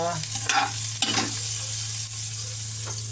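Ginger sautéing in hot oil in a pot for chicken tinola, with a loud continuous sizzle and a few quick stirring scrapes close by.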